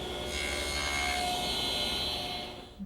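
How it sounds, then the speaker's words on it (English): A saw nibbles notches in ganged wooden shelves held with spring clamps, guided by a miter gauge; a steady, faint rasping cut that trails off at the end. "I'm just going to use my miter gauge to nibble away the material."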